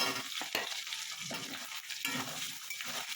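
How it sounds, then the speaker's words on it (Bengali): Chopped potatoes and onions frying in a pan with cumin seed tempering for a fish-head curry, a continuous hissing sizzle broken by scraping stirs and a few sharp spoon knocks, close and steady with no talk. "আলুটাও ভাজা হয়ে যাবে, একসঙ্গে দুটো ভাজা হয়ে যাবে"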